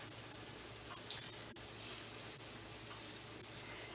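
Mini slider burger patties cooking in a pan give a quiet, continuous sizzle with a few faint pops, and no one speaks.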